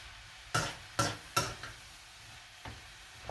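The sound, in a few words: stirring food in a pan while cooking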